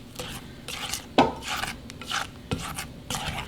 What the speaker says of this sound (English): So now we're just going to stir this all around.